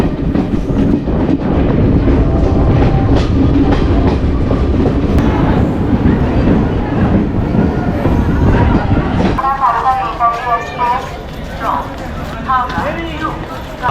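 The 12311 Netaji Express rolls along the tracks, heard from inside a first-class coach as a loud, dense rumble with rhythmic clatter over the rails; voices talk over the noise.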